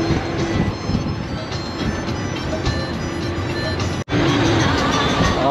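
A crowded bus speeding along a road in Sri Lanka, a loud continuous engine and road roar with rattling cabin noise, briefly cut off near the end, under faint talk.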